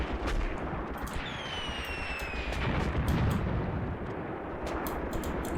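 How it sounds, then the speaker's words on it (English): Mortar rounds landing during a battle at Longstop Hill in Tank Warfare: Tunisia 1943, a dense rumble of distant impacts and gunfire under a whistling incoming shell. "some mortar rounds landing about here."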